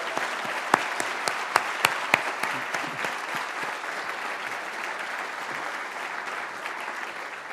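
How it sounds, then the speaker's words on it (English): A graduation audience at the Harvard SEAS Ph.D. recognition ceremony breaks into applause. A few sharp, distinct claps stand out early, then the clapping settles into a dense, steady wash that carries on to the end. "let's have one more round of applause"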